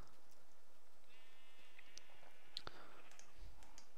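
Minecraft sheep bleating in the video game, a couple of brief, faint bleats among scattered clicks over near silence.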